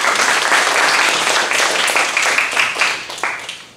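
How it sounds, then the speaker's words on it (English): A dense round of applause from a lecture audience, loud and continuous, with individual claps blurring together before it thins out and fades toward the end. "So let's give a round of applause."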